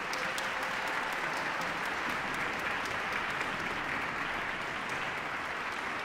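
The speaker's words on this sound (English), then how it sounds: "Applause again." Audience applause welcoming a composer at a university symphonic band concert, a steady, dense wash of many hands clapping that fills the hall evenly for several seconds.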